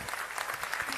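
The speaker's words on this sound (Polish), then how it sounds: "Jeszcze raz brawa." Audience applause at a Polish public debate event honouring a performer and her ensemble, a dense, steady clatter of many hands clapping indoors, moderately loud and continuous.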